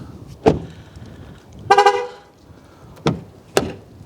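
An MG ZS EV sounds its short horn as a leave-the-car warning, a few sharp toots spaced apart with one longer honk in between, close and loud.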